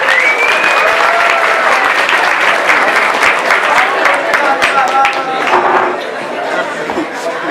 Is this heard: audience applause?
yes